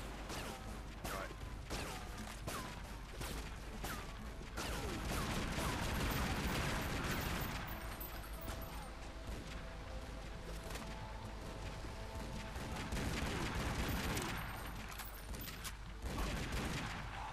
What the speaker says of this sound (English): Is he trying to shoot the bridge down?